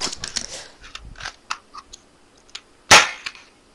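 A toy gun fires one sharp, loud snap partway through, amid scattered small clicks, taps and rustles nearby; no talking.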